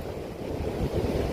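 Strong wind and heavy surf on a South Wales shore at West Aberthaw during a fishing session, with a steady broadband roar of wind and breaking waves that stays loud and constant throughout.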